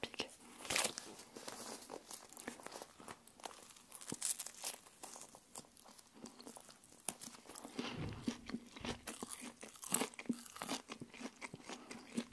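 Bites into a McDonald's wasabi burger close to the mic, with soft crunching, crinkling and chewing sounds scattered through a quiet ASMR-style recording, plus faint whispered speech.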